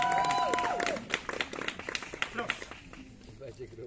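Audience applause with scattered claps and cheers at an open-mic stand-up comedy night in Nowa Huta, fading out within a few seconds as the room quiets and a voice speaks.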